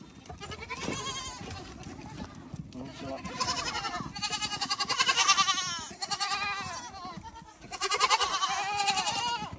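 Goat kids bleating in a village in Zhyngyldy, Uzbekistan: repeated wavering bleats in overlapping bursts, fairly close and loud, with a brief lull before a final strong cluster of cries.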